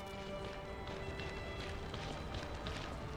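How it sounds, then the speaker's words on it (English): Running enemy footsteps in the video game Lies of P, a quick steady patter of steps over a constant background wash, fairly faint and with no voices. "I heard your little fucking footsteps coming at me"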